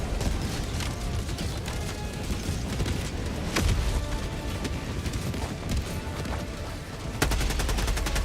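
Dense, continuous gunfire in the Helldivers 2 battlefield, rapid automatic bursts mixed with heavier booms and a sharp blast near the end, loud and unbroken throughout.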